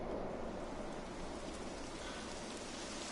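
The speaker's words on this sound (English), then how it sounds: "Typical. It would have to go and start raining, wouldn't it?" Steady rain falling in the video game Dragon Quest XI, a constant even hiss of rain on surfaces with no breaks, moderately quiet and without talk.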